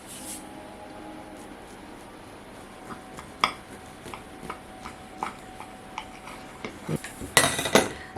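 A knife cutting through a slice of almond-pear cake on a plate, with faint scraping, then a series of sharp clinks and taps from the blade against the dish, growing louder toward the end.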